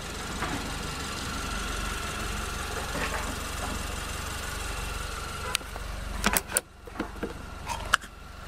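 A 2012 Range Rover Evoque Coupe Pure Plus Dynamic idles after start-up, a low steady engine hum, then sharp clicks and mechanical knocks from the car interior near the end.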